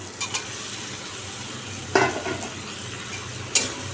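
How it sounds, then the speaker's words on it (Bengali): Young jackfruit, already lightly fried, goes into a pan for a Bengali curry and is stirred in. Low steady sizzling runs underneath, broken by a few sharp clinks and scrapes of the spoon against the pan. "এঁচড়টা আমি একটু ভেজে নিয়েছিলাম এবার এঁচড়টা এর মধ্যে দিয়ে দেবো"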